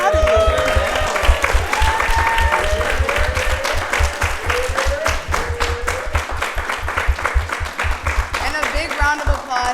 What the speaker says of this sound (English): So a big round of applause for everyone who showed up here today.